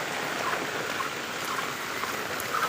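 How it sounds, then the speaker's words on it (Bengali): Continuous rain over several days in Chuadanga, falling as a steady, even broadband wash that stays close and unbroken throughout, with no voices. "এই 2 দিন ধরে চুয়াডাঙ্গায় তো একদম কন্টিনিউ বৃষ্টি"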